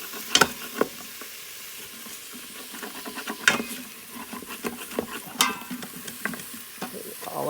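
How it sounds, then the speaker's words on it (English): A utensil scraping and stirring inside a pot of sizzling food during home cooking, with scattered sharp scrapes and clinks rising above a continuous frying hiss, close up. "scraping down the sides and everything, and just again getting all those flavors and everything like that"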